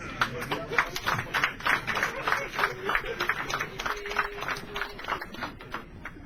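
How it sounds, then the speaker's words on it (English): Audience applause at a corporate launch evening, a dense patter of clapping with scattered claps standing out, moderately loud and steady across the whole stretch, with faint voices mixed underneath. "Another round of applause for him."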